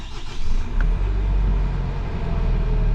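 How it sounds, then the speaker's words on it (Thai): A 2021 Nissan Navara Calibre 2.3 pickup with a seven-speed automatic fires up by push-start button, then settles into a steady, close, low idle rumble that holds without speech. "เดี๋ยวลองสตาร์ทดูเนาะเหยียบเบรกอ๋อ ลืมไปว่าเกียร์โต้ ปุ่มพุสตาร์ท"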